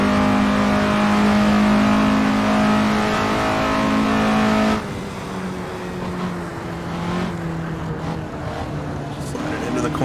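A 1950s Indy race car engine in the Assetto Corsa racing game drones loudly and steadily, then drops abruptly to a lower, lighter rev that rises and falls through the rest of the run.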